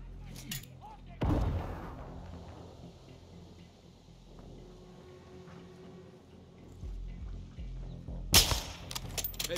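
Gunfire aimed at a target in the Call of Duty Modern Warfare 2 campaign, played on Xbox Series S: two loud, sharp blasts, one early and one near the end, with a low rumbling battle ambience and faint voices between them.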